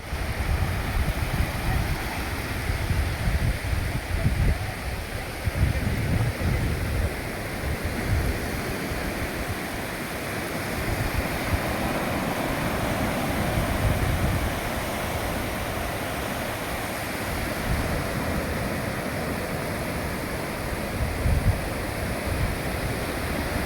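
Sea waves wash up on the beach at Digha in a steady, loud, broadband roar, with surges swelling and falling over the whole stretch and no voice over it.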